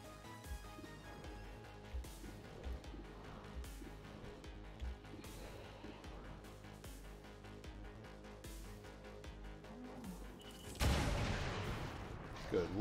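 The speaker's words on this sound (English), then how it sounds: "all of the explosions just make the situation even worse" Explosions and gunfire during a battle in the strategy game XCOM 2: War of the Chosen, with scattered booms over a busy musical bed and a heavier, louder burst of blasts near the end.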